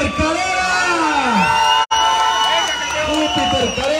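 A crowd at the Ultra Huachi 2023 ultramarathon in México cheers, whoops and yells loudly and continuously for a race winner, with a brief dropout midway and voices shouting through the din.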